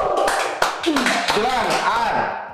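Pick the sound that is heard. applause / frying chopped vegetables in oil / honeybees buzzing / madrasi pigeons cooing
applause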